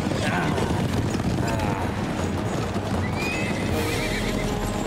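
Hooves pound steadily in a dense gallop while horses whinny now and then above the rumble in an animated cartoon gladiator race, loud and continuous.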